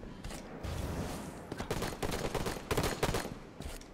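Gunfire in the Halo 5 SWAT video game, several quick bursts of rapid shots close together, fairly faint overall.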